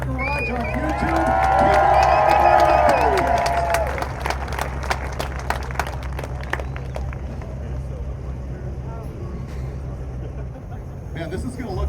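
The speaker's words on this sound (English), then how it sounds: "Give a round of applause to the man, Derek, from Vice Grip Garage on YouTube." Crowd applause and cheering at an outdoor duct-tape drag race event rise over a low rumbling engine idle, with a voice talking early on and scattered claps continuing under the steady drone.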